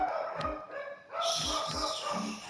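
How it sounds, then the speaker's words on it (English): Dogs barking near a baseball video game stream, a few sharp barks and yips at irregular intervals, moderately loud and fairly close, with no one talking over them. "I'm tired of hearing these dogs"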